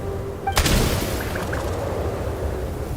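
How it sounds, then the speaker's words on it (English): A single sharp gunshot in the game Genshin Impact cracks out near the start, followed by a low rumbling boom and a faint trailing game ambience. "There's the gunshot."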